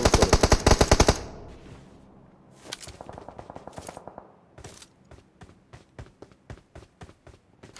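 Video game gunfire: a rapid automatic burst first, then scattered bursts and evenly spaced single shots, sharp and loud, with no talk.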